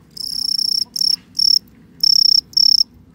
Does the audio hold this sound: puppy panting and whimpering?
no